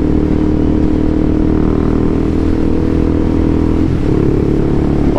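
A KTM Duke 390 single-cylinder motorcycle engine pulls steadily in sixth gear, a loud continuous drone with wind rush heard from the rider's position and a slight shift in tone near the end.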